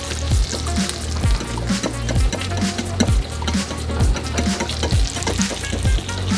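Bacon and shredded-potato hash browns fry loudly in a pan for breakfast, a thick, close sizzle broken by regular scraping stirs of a spatula, with no voices.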